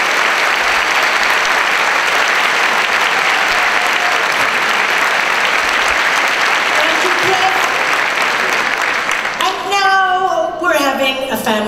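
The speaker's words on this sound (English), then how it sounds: "Give them a round of applause." Sustained loud applause from a convention crowd at the FedCon 2018 opening ceremony for the Battlestar Galactica cast reunion, a dense wash of clapping that runs throughout, with voices and a rising tonal sound emerging near the end.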